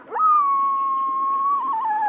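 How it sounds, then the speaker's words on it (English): A single wolf gives a bark howl while reacting to a rival pack, with a sharp bark-like onset flowing into a long, steady, loud howl that wavers near the end, heard alone. "This one you're going to hear is called a bark howl from a wolf reacting to a different pack"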